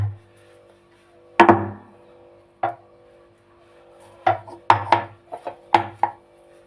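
Ginger being crushed on a grinding stone, a series of hard thuds and knocks, a few spaced apart then a quicker cluster, close and fairly quiet over a faint steady hum.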